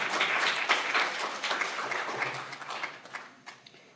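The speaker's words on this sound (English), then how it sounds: "I will accept a round of applause for that." Audience applause at a panel on education funding, dense clapping that is loud at first and thins into scattered claps as it fades.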